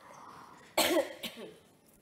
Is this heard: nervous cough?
yes